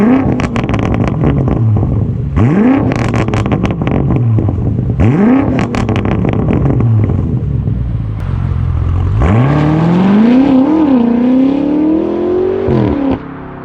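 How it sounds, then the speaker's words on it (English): 2021 Audi B9.5 S4 engine revving up repeatedly through gear changes, with rising pitch sweeps, then a long, strong acceleration, loud and close from inside the car. "I'm here to show you some driving characteristics of my 2021 Audi S4"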